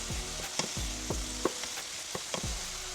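Green beans stirred into a pan of frying mushrooms for a healthy low-carb meal prep, with a steady sizzle under repeated scraping strokes of a spoon, about five distinct stirs in quick rhythm, close and moderately loud.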